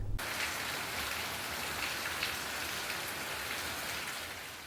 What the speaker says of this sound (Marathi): राजापूर शहर आणि परिसरात आज अवकाळी पावसानं जोरदार हजेरी लावली.